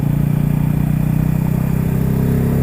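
A 2023 Bajaj Pulsar N250 motorcycle engine accelerates on a race track. It gives a loud, close, pulsing drone that holds steady and then smooths out slightly as it revs.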